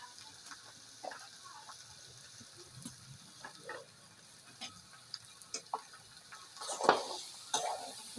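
Vegetables stirred in a pan, a soft low sizzle broken by scattered clinks and scrapes of a utensil against the metal, growing louder and busier toward the end, close by and alone.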